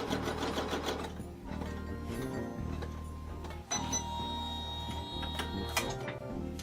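An embroidery machine stitches a fabric outline with a fast, steady mechanical ticking and needle chatter, close and moderately quiet, with a brief pause and a few higher clicks midway and no talk.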